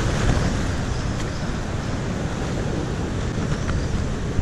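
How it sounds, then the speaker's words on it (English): Strong wind gusting across open Dartmoor moorland near trees makes a loud, continuous roaring rush that buffets the microphone for the whole stretch, with no voices. "Not the strongest wind I've ever been in, but still."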